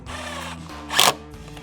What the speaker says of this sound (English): we're now installing the board to the end of the deck, and we're using the tool, the handy installer